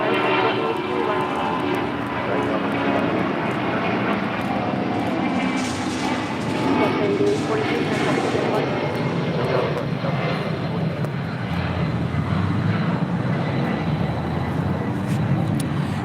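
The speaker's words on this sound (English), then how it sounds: "This is Delta Airlines 8843 taking off to Phoenix on a 757-200" A Delta Airlines Boeing 757-200 takes off from runway 25 at LAX, bound for Phoenix, with a sustained broad engine roar from start to finish and faint voices in the background.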